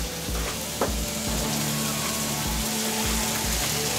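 Diced tomatoes sizzle on high heat in a pan with mushrooms, white wine and peppers, making a loud, continuous hissing fry close up, with a few soft low thumps beneath it and no talk.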